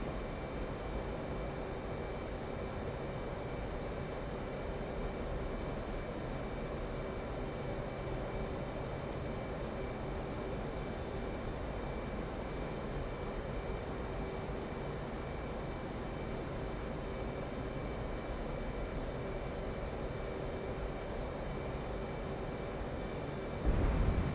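Steady, droning jet engine roar of an F/A-18 Hornet approaching the runway in the DCS World flight simulator, a constant, even hum with a faint tone running through it and no talk.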